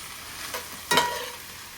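Ground chicken browning in a pan for tacos, a soft steady sizzle with a couple of brief scraping stirs, one sharper clatter near the middle, quiet and close with no talking.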